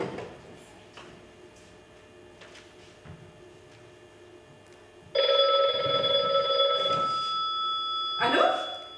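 A theatre play on stage uses a telephone ringing as a sound effect. After a quiet stretch with faint stage noises, a loud sustained electronic ring starts abruptly and carries on for about four seconds.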